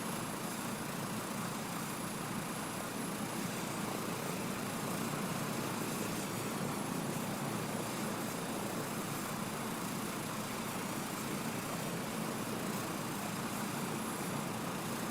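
An airplane flying in Microsoft Flight Simulator 2024 on PlayStation 5 Pro, a steady, even engine and airflow drone holding constant throughout with no voices.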